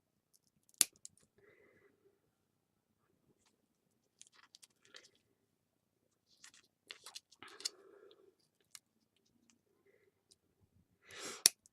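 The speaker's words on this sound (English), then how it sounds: "It may be easier if you use a slightly smaller pair of scissors." Small scissors cut paper in soft, scattered snips and crunchy clips with pauses between them. The sounds are quiet and close, with faint breathing but no speech.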